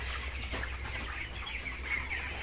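Farm chickens cluck softly in a poultry shed, scattered brief calls over a steady low background hum.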